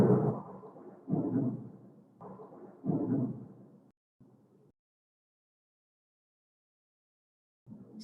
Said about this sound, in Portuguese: Super trovão.